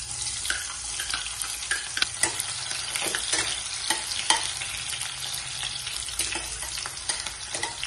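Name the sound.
onion being fried and stirred on low flame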